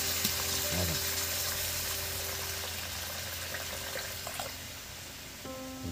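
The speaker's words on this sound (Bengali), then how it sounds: "দেখুন এবার এর মধ্যে আমি জল দিয়ে দেবো" Chicken do pyaza masala in oil sizzles and fries steadily in a pan, with a soft hiss of added water blending into the constant bubbling frying sound; no voices.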